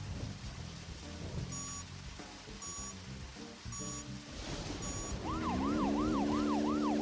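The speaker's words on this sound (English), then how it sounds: "The old siren is blaring." A wailing siren in the video game Deadly Premonition, rising and falling in steady sweeps that grow loud toward the end, over rain and game music.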